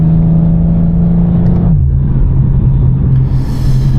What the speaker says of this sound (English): So yeah, this exhaust, man, it sounds freaking awesome, man.